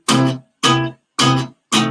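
Acoustic guitar strummed too loudly, four heavy separate chords in an even rhythm, each ringing briefly before stopping, close and alone.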